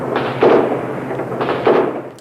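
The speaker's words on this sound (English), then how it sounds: "you can hear some more gunfire from the back of the White House building" Gunfire during the 1993 clashes at the Moscow White House, with two or three dull, distant reports that boom and echo against a low ambient rumble.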